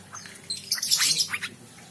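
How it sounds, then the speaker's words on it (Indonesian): A three-month-old captive-bred straw-headed bulbul (cucak rowo) gives a quick cluster of high, thin chirps and squeaky calls, close and fairly faint, over a quiet background. "anakan burung cucak rowo"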